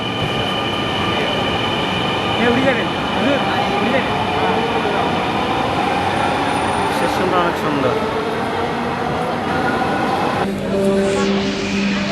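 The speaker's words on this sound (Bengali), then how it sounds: "অবশেষে আবার আইসে মেট্রো রেল" A Dhaka metro train rumbles steadily with a whining tone, the sound shifting near the end as it pulls into the station; a person talks briefly over it.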